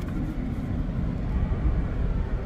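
Strong wind roars around a car during a storm in Australia, a dense, steady rumbling blast that buffets continuously and close with no pauses.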